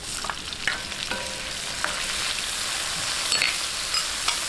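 Tomatoes added to sautéing onions in a pan for a Filipino pork pochero sizzle steadily and close, with a few light clicks and scrapes of stirring over the hiss.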